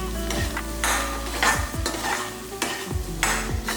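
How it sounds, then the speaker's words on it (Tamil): Potatoes being stirred and fried in a pan for a crispy potato fry, with a steady close sizzle broken by repeated scraping strokes of a spoon or spatula against the pan, no voices. "இந்த உருளைக்கிழங்கை மறுபடியும் ஒரு பரட்டி விட்டுருவோம்"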